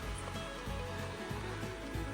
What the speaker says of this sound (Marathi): हा सगळा पाऊस येतोय